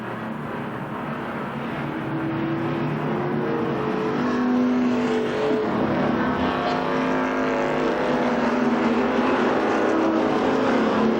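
Stock cars race around a speedway oval at Columbus Motor Speedway, a continuous roar of several engines with shifting revving pitches as cars pass and string out, loud and sustained without talk.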